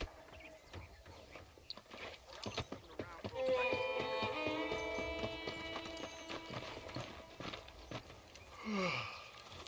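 Horse hooves clip-clopping at a riding pace in the Western video game Red Dead Redemption, with a whinny near the end, under game music and background voices.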